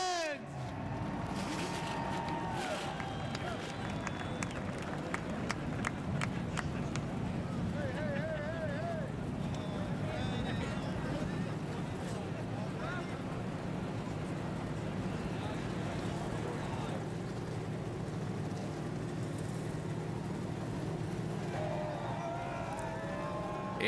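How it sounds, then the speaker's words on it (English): Forty-three NASCAR Nationwide Series stock cars firing their engines at Daytona: a dense, continuous rumbling roar of many engines blended with crowd and wind noise, steady and loud throughout, with a commentator's voice intermittently over it. "Engines have fired."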